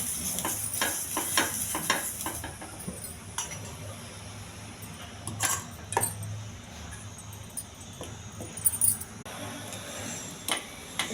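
Corn flour vadas mixed with onion, green chilli and ginger sizzle on a hot, lightly oiled pan, a steady close frying hiss broken by scattered clicks and scraping taps, with no talking.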